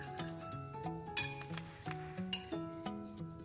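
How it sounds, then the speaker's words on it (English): A fried, stuffed Mexican chile relleno is cut on a plate, giving a string of crisp crunches and clinks of cutlery against the dish, close and fairly quiet, with no talking. "You can hear how crispy this is."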